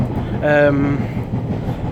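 Interior of a Northern Railway Class 142 Pacer diesel railcar pulling into a station on the MetroCentre to Newcastle line, with a steady rumbling ride, a brief tonal squeal of brakes or wheels midway, and faint background speech.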